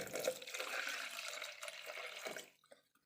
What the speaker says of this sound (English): I will be measuring out my water